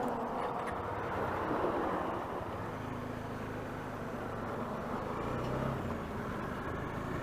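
Steady motorcycle riding noise from a Bajaj Dominar 400 on the road, a continuous engine and wind roar with little change in level throughout and no talking.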